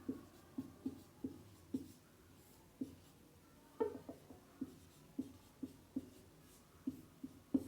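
Chalk writing on a classroom board, a run of sharp taps and short scratchy strokes in an uneven rhythm, close and fairly quiet with no voice over it.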